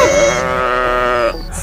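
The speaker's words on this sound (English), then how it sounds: "Sheep!" A sheep bleats once in a long, loud, wavering cry, close and alone, ending in a short breathy sound.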